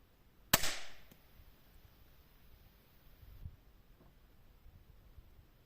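An improvised rail-launched weapon fires a single sharp, loud crack, followed by a brief rattle and a quiet scrape a few seconds later, set against near silence.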